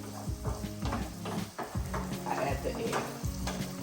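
Tomatoes, spinach and egg frying over high heat in a hot pan with browning onions, a steady crackling sizzle broken by repeated scrapes and stirs of a utensil against the pan, close and fairly loud.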